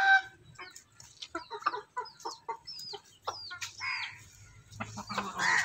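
Backyard chickens cluck in a quick run of short, separate calls, near and moderately loud, ending in a longer squawk over faint background noise.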